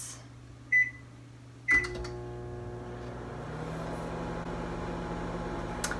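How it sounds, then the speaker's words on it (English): A microwave oven heating cookie batter, with two short beeps from the keypad, then a steady low mechanical hum and whir that runs evenly to the end of the clip. "now I'm supposed to microwave it and stir it"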